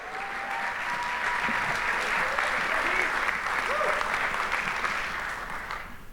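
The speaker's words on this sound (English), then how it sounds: "Would you continue your applause" Sustained applause from a large crowd at a conference closing session, steady and even throughout, with faint voices calling out beneath the clapping.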